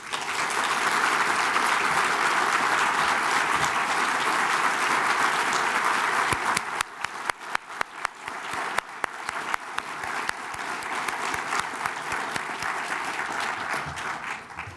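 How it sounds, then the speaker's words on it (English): Audience applause at a literary awards ceremony fills the hall, dense and steady for several seconds, then thinning into scattered individual claps that carry on at a lower level. "Would both of you please stand so we can applaud you?"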